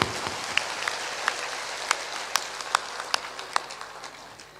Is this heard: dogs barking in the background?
no